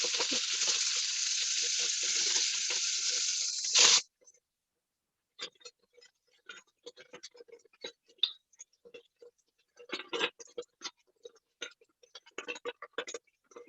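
A diced yellow onion hits hot olive oil in a Dutch oven and gives a loud, steady hiss for about four seconds. The sizzle then cuts off abruptly, leaving faint scattered ticks and clinks.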